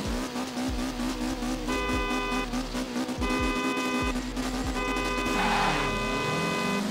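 Car engine in the Forza Horizon 4 racing game played with a steering wheel, revving hard through repeated rising sweeps and gear shifts with tire squeal, loud and continuous with layered engine tones.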